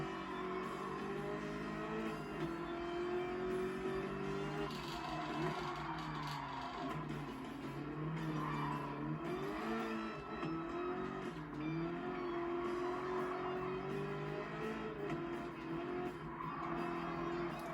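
Car wheelspin and tire squeal in a racing video game, a continuous engine drone rising and falling in pitch with sliding whines of tire squeal layered over it, steady and close throughout.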